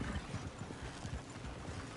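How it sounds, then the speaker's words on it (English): Horse hooves clip-clopping on a road in Red Dead Redemption 2, a steady dense patter of several horses close by with a low rumble beneath, continuous and fairly loud. "Oh, shit, the horses!"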